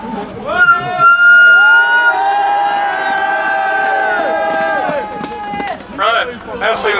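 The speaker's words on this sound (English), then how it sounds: "Let's hear a big cheer from you for that!" Outdoor crowd at a political rally in Denmark, cheering and shouting together in loud sustained voices that swell and hold for several seconds, then break into scattered calls near the end.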